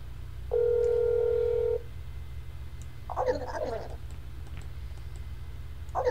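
Phone dialing in the horror game That's Not My Neighbor: a steady electronic tone held for about a second, then a short burst of clicky button presses, over a constant low background hum.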